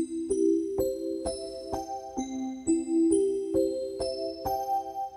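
A bright Roland Verselab MV-1 synthesized arpeggio steps upward note by note in a steady rhythm, each tone plucked and ringing briefly, climbing through two octaves before repeating.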